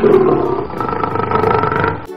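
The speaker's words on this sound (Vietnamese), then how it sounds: "Sư tử." A lion gives a single loud, close roar lasting about two seconds, deep and rumbling with a rough, sustained growl before it drops away.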